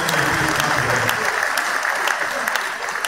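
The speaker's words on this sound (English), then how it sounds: "If I mention any name, please clap for them." Cathedral congregation at a priestly ordination in Benin City claps for sponsors, a dense, steady wash of many hands filling the space, loud and continuous throughout with a faint voice underneath early on.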